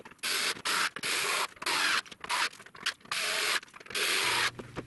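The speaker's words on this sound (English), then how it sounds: "I'm using my small electric screwdriver to avoid stripping out the screw holes." A small electric screwdriver driving screws into a wooden form for a concrete potting bench shelf, heard as a string of short whirring bursts with brief gaps between them, close and fairly loud, with no talking.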